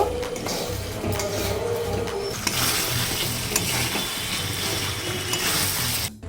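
A spoon stirs garam masala powder into a chicken curry with raw mango in a pan, making steady scraping and ratcheting strokes over a soft sizzle, close and alone without speech.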